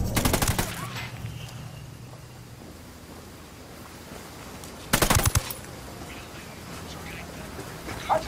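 Automatic gunfire in Ghost Recon Wildlands, two loud close bursts of rapid shots separated by a quieter stretch of rumbling ambience, with faint scattered sounds after the second burst.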